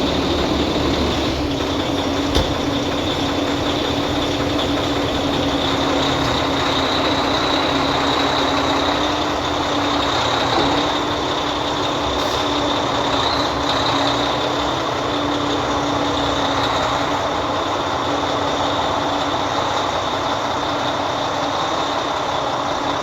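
A 2013 truck's diesel engine idling in a trucking yard, a loud, steady rumble with a constant whine that runs unbroken the whole time, no voices.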